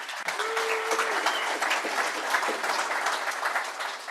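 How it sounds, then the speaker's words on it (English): A crowd at a high-speed rail event gives steady, dense applause that holds at an even level throughout, with a faint whistle-like tone briefly above it early on. "So give them a round of applause."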